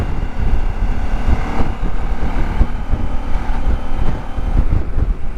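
Strong wind roars and buffets the microphone continuously during a ride on winding Bataan roads, with a low rumbling undertone like a motor or rough water beneath it.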